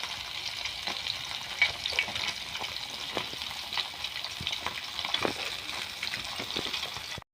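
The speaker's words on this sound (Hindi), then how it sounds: "आम रोही माछ भजा चलती छोट माछ भजा कर रखी" Rohu fish frying in a pan at home, a steady close sizzle with crackling and occasional scraping stir sounds running throughout, no voices.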